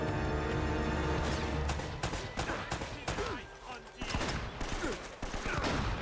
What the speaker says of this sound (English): He's shooting me with a fucking shotgun from 900 miles away.